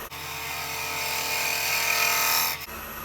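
Wood lathe spinning a jack pine burl while a tenon is shaped, a steady close whirring hum with a bright scraping hiss that cuts off abruptly near the end.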